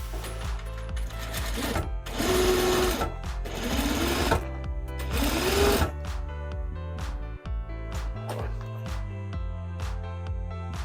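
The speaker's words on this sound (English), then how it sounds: "I'm stitching from the inside of the bag so that I can move this out of the way as I stitch" A sewing machine stitches a fabric mini tote bag in several rapid whirring bursts with pauses between them, followed by short clicks and taps of adjusting the work.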